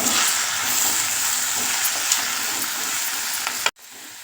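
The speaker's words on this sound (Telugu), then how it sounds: "ఇప్పుడు పెసరపప్పుని వేసేసుకుని బాగా కలుపుకోవాలి" Moong dal and drumstick leaves are stirred in a hot pan: a bright, continuous sizzle with faint scraping, near and fairly loud, which cuts off abruptly near the end.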